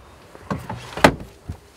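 The over-cab bunk bed of a luxury cab-over camper motorhome is pulled out, giving a few soft knocks and a sliding clunk, then one loud thud and a final bump, close by.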